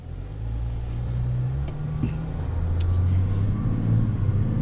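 A 2024 Chevy Silverado ZR2 diesel pickup pulling away, its engine a steady low rumble heard from inside the cab that rises gently as it accelerates, with no voices over it.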